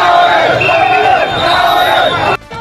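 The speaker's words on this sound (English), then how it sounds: "You can hear the youth chant Traore's name in the streets as a sign of support for his leadership." Youths gather in the streets of Burkina Faso and chant a leader's name in support, a dense, loud crowd of voices carrying on steadily before cutting off abruptly near the end.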